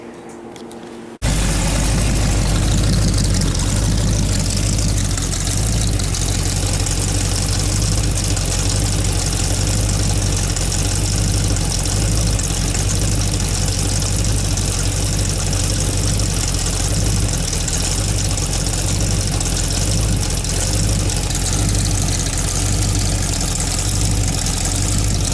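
A 327 engine starts up and idles with a steady, loud, low rumble and a faint rhythmic lope that holds evenly for about twenty-five seconds, close by, with no talking.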